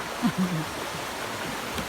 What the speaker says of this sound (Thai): เสียงเสียงน้ำนี้แบบเหมือนนี้เลยเนาะ ถ้าเป็นเมืองไทยก็น้ำตกเนาะ อย่างน้ำหลั่งไหลเนี่ย